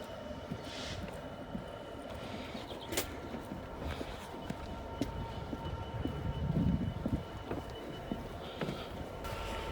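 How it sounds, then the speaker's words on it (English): A train rumbles past at a moderate distance, a steady broadband roar with occasional clanks and a swell near the end, with faint birds in the background. "Watch out, man. There's a train coming."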